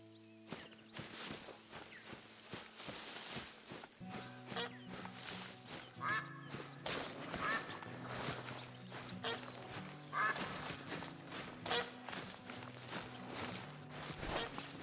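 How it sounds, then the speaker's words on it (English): Ambient geese in a small-game hunting video game, with repeated honks and quacks at a moderate distance layered over steady footstep crunches and a low tonal backdrop, continuing throughout without speech. "Do wish you could turn off the ambient geese noises"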